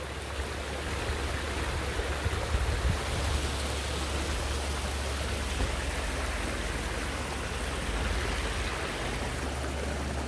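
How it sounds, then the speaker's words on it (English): Water pours steadily over a small waterfall into a natural swim pond planted with native plants, a dense, continuous rushing wash that holds even and close throughout with no voices. "So this is that skimming action happening on the backside of the waterfall."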